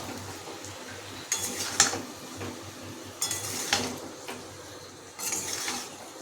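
A metal spoon stirs potato, cauliflower and ground spice paste with red chili powder in a pot, giving three bursts of scraping and clinking against the metal, separated by quieter pauses with no voices.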